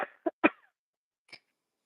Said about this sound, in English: I don't know why I have a cough all of a sudden.